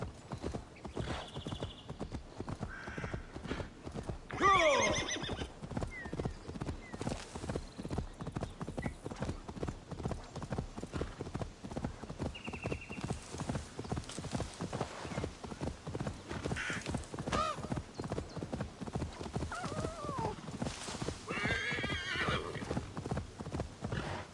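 Horse in the video game Assassin's Creed Valhalla, with rapid steady hoofbeat clip-clops running throughout and a couple of neighs and whinnies breaking through, close and clear, a voice speaking briefly over it.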